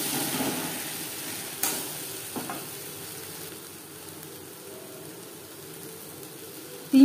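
Garlic and spices frying in a pan of oil for a mutton fat and liver aloo dum, a steady soft sizzle with a few brief stirring clatters, close and alone.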